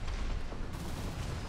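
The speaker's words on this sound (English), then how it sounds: "big cannon! Activate! Big cannon!" A big cannon fires in the mech game Armored Core VI, a dense, sustained low booming roar filling the short moment with heavy rumble and no clear separate shots.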